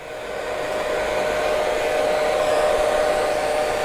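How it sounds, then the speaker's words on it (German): A hair dryer blows in a continuous, loud, steady whoosh that swells slightly over the first second and then holds level, with no voices. "jetzt bitte den Sound von dem Föhn ein bisschen zurückdrehen"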